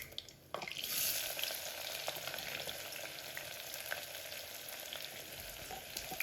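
Onions sizzle in hot oil with fennel seeds in a pan, a steady close frying hiss that jumps in loudness as they go in and carries on with faint stirring.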